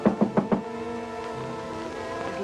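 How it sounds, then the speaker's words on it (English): Four quick knocks on a door, evenly spaced and fairly loud, opening an old film scene before a sustained musical chord carries on alone. "suddenly there was a knock on the door"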